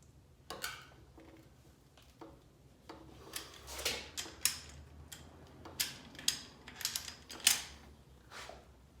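Breaker bar being pulled through angle passes on cylinder head bolts during an LS swap into an FRS, giving a string of sharp, close ratcheting clicks and ticks in irregular bursts, fairly quiet with no talking.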